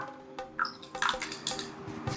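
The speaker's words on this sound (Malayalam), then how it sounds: "ഇനി ഒഴിക്കാൻ പോകുന്നത് തൈരാണ്" Curd splashes and trickles into a bowl of fermented rice gruel with crushed green chillies, a soft, faint pouring with a few small liquid plops and clinks, close by.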